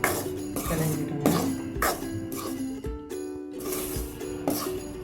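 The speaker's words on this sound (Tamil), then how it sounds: "லோ ஃப்ளேமில் வச்சுக்கிட்டு நல்லா ஈவனாக கிளறிடுங்க." Ragi flour being stirred and roasted in a pan over a low flame for ragi laddu, with close, loud clinks and scrapes of a spoon against the metal pan in repeated strokes.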